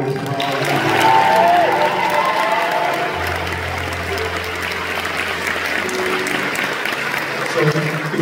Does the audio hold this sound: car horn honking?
no